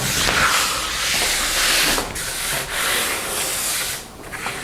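Sandpaper worked over fiberglass on a homemade sea kayak: a loud, close, hissing rasp made of repeated back-and-forth strokes with short pauses between them, with no talk.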